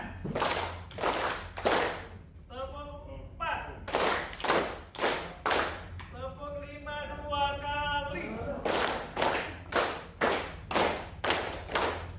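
A group claps three times in a counting game at a teachers' workshop, in loud close bursts with spoken counting between them, then a long run of quick evenly spaced claps.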